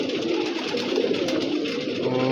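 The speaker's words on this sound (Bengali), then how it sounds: "এটা হচ্ছে যেটা বের হচ্ছে সাদা কবুতরটা" Pigeons, including a white one, cooing near their coop at dusk, a low continuous throaty burble that stays steady and fairly close throughout, with no speech.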